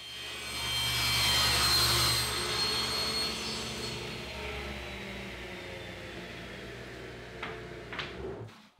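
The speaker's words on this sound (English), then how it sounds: "the first thing I'll do is rip strips of poplar at just a little bit heavier than 2 inches" Table saw ripping poplar into strips a little over 2 inches wide, a loud close whining roar that builds, holds steady, then spins down with a few knocks at the end.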